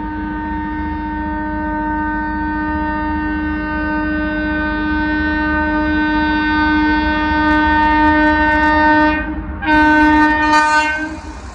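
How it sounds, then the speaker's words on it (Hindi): The Kaifiyat Express roars past at high speed, its loud horn blaring as a sustained multi-tone blast over the heavy rumble of the train, with a brief break near the end before the horn resumes. "जो कैफियात एक्सप्रेस है ना वो आ रही है बहुत ही हाई स्पीड एक्शन के साथ"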